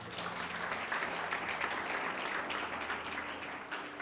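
Congregation applause during a church sermon in praise of God, a steady wash of many hands clapping at moderate distance, fairly faint and sustained for a few seconds.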